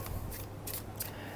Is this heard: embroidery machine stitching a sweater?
no